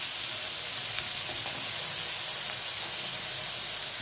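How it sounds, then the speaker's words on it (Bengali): Brinjal frying in a little oil with salt and turmeric, giving a steady, even hiss and sizzle that runs unbroken throughout, fairly close and without voices. "একটু নুন আর হলুদ দিয়ে বেগুনটাকে ভেজে নেব ভালো করে"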